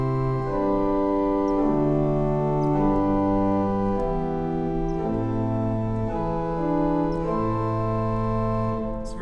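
A Reuter pipe organ sounds its principal stop on the great division in a church, sustained warm chords moving steadily through a phrase, full and even in volume with a slight shimmer and no voices.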